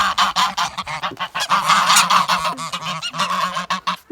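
Geese honking loudly up close outdoors after a 24-hour blizzard, a flock giving rapid overlapping nasal honks in a steady stream with no pauses and no voices.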